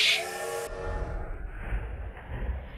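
A high whistle tone fades out as a low rumble of a toy train rolling along in a Roblox video game takes over, steady and moderately loud.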